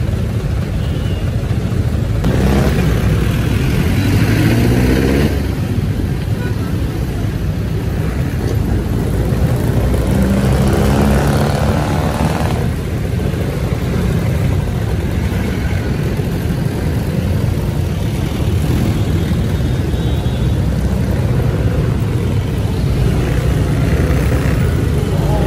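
Dense street traffic in Divisoria, Manila, with a constant rumble of idling and heavy engines, passing vehicles and occasional louder surges, filling the whole stretch without letting up.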